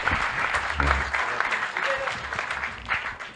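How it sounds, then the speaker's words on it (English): Round of applause from a seminar audience at a medical education session, a sustained wash of clapping from the crowd with a voice speaking over it. "I want every one of you to please give a huge round of applause for Dr. Abbas Ali."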